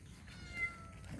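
A single faint, short cat meow, thin and somewhat distant, set against quiet background noise.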